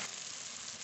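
Spice paste frying in oil in a pan gives off a steady, soft, hissing sizzle that runs unbroken for under a second with no voices.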